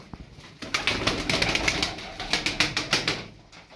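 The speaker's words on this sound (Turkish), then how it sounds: "12 tane kuş alın." Several Mas Sabuni pigeons coo and flap their wings close by, with repeated rapid bursts of wingbeats over a steady low cooing and no talking.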